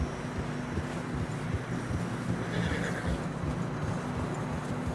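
A horse whinnies in Red Dead Redemption 2 over steady wind and low rumble, with hooves clopping underneath throughout on fresh snow.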